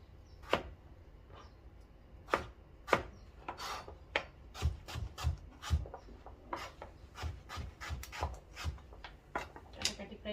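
Knife chopping vegetables (cauliflower, pumpkin, beans, carrot) on a board to prepare vegetable khichuri, heard as irregular sharp chops that come in bursts of quick strikes with short pauses between them.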